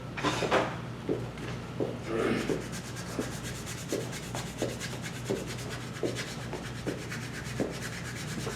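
Hand sanding of a turned natural-edge wooden goblet with 120 grit sandpaper, a steady rubbing scrape in repeated rhythmic strokes, fairly close and moderately loud with no talk.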